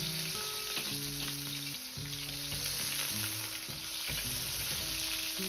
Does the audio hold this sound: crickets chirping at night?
no